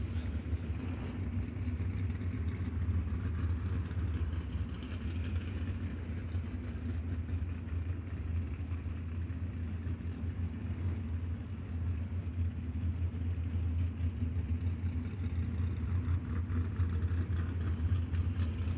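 A sprint car engine running during hot laps at Eldora Speedway, heard as a steady low engine rumble that stays distant and even throughout, with no voices over it.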